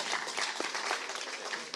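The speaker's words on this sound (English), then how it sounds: "one final round of applause for all of the candidates" An audience applauds the election candidates at a Board of Deputies of British Jews triennial election, a steady dense clapping that fills the moment without talk.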